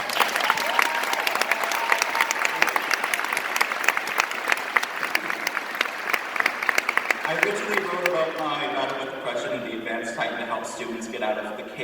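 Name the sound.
applause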